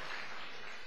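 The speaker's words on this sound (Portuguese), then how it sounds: "Uma salva de palmas só para aqueles que são fiéis ao Senhor e à palavra" Applause from a church congregation, a steady dense wash of many hands clapping together for the full second with no voices over it.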